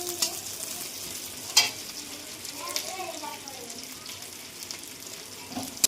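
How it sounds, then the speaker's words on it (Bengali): Onion and slit green chilli fry in oil in a wok, a soft steady sizzle broken by a few sharp utensil clinks and scrapes, with a faint voice murmuring partway through. "এবার আমরা কড়াইতে তেল পেঁয়াজ দিয়ে দিয়েছি"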